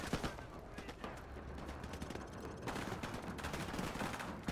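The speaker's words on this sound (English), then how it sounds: "Where they shooting from?" Enemy gunfire in Call of Duty 4: Modern Warfare crackles in fast automatic bursts and scattered shots, dense and steady throughout, with no talking over it.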